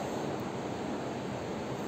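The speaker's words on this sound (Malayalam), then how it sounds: "കാറ്റ് കൂടുതലുള്ള ഒരു സമയമായതുകൊണ്ട് ബോട്ടിംഗ് ഒക്കെ നിർത്തിവെച്ചിരിക്കുകയാണ്." Strong wind blowing across the Chimmini dam reservoir in Thrissur, a constant broad roaring rush with no breaks and no voices over it.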